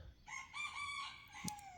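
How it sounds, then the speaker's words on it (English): A rooster crows once, a short, fairly faint call about a second long at moderate distance, with no talk over it. "Ooh, my rooster."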